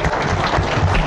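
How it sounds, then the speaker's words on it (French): Close, loud applause from a studio audience welcoming an arriving guest during a Christmas-week French-language show, a short dense burst of clapping. "Marc Laperle, on peut l'applaudir"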